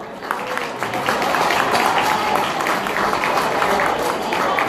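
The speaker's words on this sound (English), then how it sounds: "please give yourself a big round of applause for a massive turnout tonight" Applause from a crowd at a Vietnamese community fundraising dinner for a new Footscray hospital, sustained and fairly loud clapping that fills the hall.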